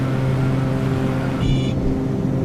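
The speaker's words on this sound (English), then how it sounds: "Alright, put my gear down." The landing gear of a Cessna 310R extends during a night approach, a brief mechanical whine rising over the loud, steady drone of the twin engines in the cockpit.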